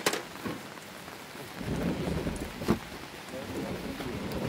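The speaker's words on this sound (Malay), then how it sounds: "Hujan tak berhenti lagi ni" Heavy, non-stop rain falls on a wild campsite, a steady hiss with a few louder knocks and rumbles, while voices murmur faintly in the background.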